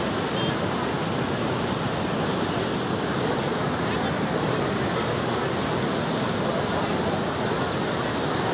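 Water roars through a breach in the Sarala Sagar reservoir dam, a loud, dense, unbroken rush that fills the whole clip like a waterfall, heard close with no other sounds.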